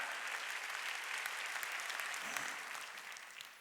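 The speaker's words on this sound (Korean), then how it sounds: "박수 치자 이게야." Steady applause from a church congregation at a Sunday worship service, dense clapping holding at an even level for a few seconds and tapering slightly toward the end, with no voices over it.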